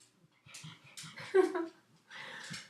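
A dog pants and whimpers close by, with soft breathy puffs and a short high whine in the middle, in several short bursts separated by quiet gaps.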